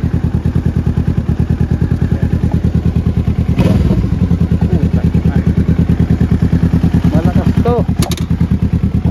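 A Kawasaki Z650 motorcycle with an SC Power exhaust idles close by, its warm engine throbbing in a loud, steady rapid pulse that briefly swells once, with a voice talking over it.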